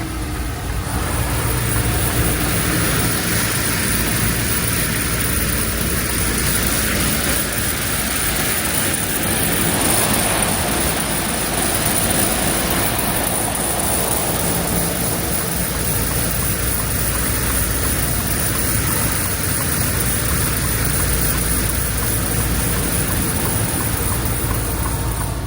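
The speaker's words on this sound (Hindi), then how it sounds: "अब आएगी चेनों की आवाज" Heavy road rumble fills the cab as a truck drives over snow on chained tyres, a continuous loud grinding roar with a steady high whine running throughout and no talking.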